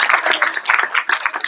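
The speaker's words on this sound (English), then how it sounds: "she needs to get an applause" Brief burst of applause from a community meeting audience in Redwood City, a small crowd clapping in fast uneven rhythm for about a second and a half, fairly close and steady before fading.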